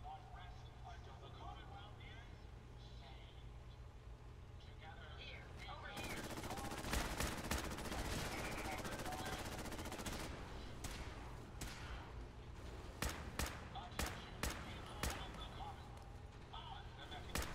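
Enemy gunfire in Fallout 4, starting as quiet background rumble and then swelling into steady rapid shooting with sharp individual cracks standing out near the end.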